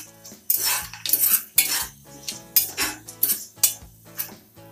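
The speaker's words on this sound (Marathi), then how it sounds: "हलवून घ्यायचं आहे" A metal spoon scrapes and clanks against a cooking pot while chicken biryani with coriander is stirred, in a rhythmic series of about eight close, bright strokes with no talking.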